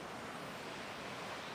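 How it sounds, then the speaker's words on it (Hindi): A swollen jungle stream rushes with a steady, dense roar after heavy rain in the Ranakpur jungle, constant and enveloping with no voices over it. "ये पानी का फ्लो बढ़ गया अभी।"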